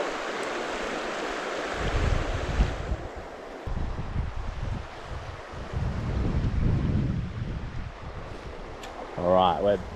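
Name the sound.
strong headwind on a river while fly fishing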